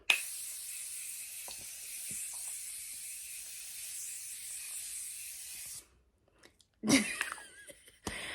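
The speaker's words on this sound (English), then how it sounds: "Morphe Continuous Mist Setting Spray" A long continuous hiss of a Morphe Continuous Mist setting spray, travel size, misted onto a face for about six seconds, then a brief pause and a short burst of rustling and handling noise.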